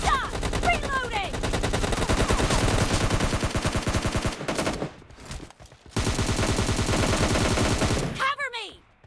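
Continuous rapid gunfire in a PUBG Mobile Lite team deathmatch game, dense automatic bursts running almost throughout, with a brief lull midway and short radio-style voice callouts mixed in.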